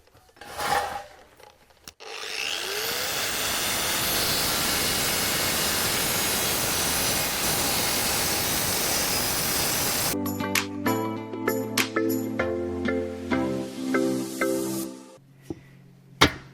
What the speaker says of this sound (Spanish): preparado disco de corte, empezamos a cortar.